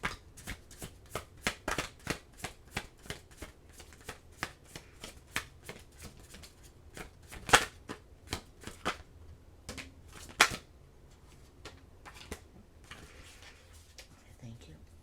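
Tarot cards are shuffled by hand, a rapid run of crisp riffling flutters and taps, close and fairly quiet, with a couple of sharper snaps partway through.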